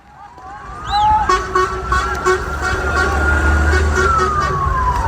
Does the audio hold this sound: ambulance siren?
yes